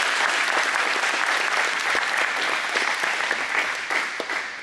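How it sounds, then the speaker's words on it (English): A high-school after-prom hypnotist show audience in St. John, Kansas bursts into loud, sustained applause, a dense wash of clapping from many hands that tapers slightly toward the end. "Give him a big round of applause."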